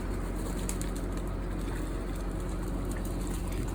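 Pigeons being bathed coo softly amid a steady low rumble of background noise, with occasional faint flutters.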